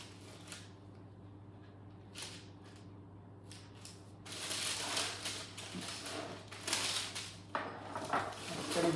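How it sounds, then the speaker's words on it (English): A spatula scrapes and cuts through fruit scone dough, dividing it into eight wedges, with a few soft scraping and tapping strokes close by, growing busier and louder toward the end. "using the spatula, cut evenly into 8 wedges"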